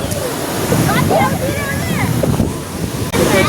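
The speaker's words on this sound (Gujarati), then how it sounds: "મારે પાણી ભરાય ગયું હરવે હરવે બૂટમાં પાણી ભરાઈ ગયું મોજું આવ્યું છે" Sea waves wash ashore at Somnath beach in a continuous, close roar of surf and slosh, with a few thin whistle-like tones and muffled voices over the water noise.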